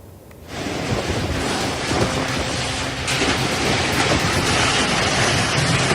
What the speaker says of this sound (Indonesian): Inilah detik-detik video angin puting beliung menerjang permukiman warga di Dusun Kalideres, Wanayasa, Banjarnegara, Jawa Tengah.